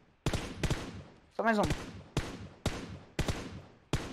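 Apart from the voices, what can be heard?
gunshots in the video game PUBG Mobile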